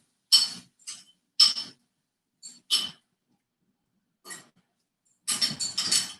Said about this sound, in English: I'm gonna just stir this around.